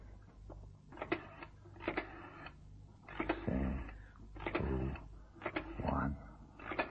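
Telephone dialing in an old-time radio drama, with a series of mechanical clicks and whirring rotary returns, close and moderately loud, with brief voice sounds between them.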